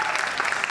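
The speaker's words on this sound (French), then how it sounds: "Est-ce qu'on peut donner une main d'acclamation à ces deux femmes qui sont derrière?" Loud, close applause from a gathered congregation, a dense patter of many hands clapping without pause through the brief moment.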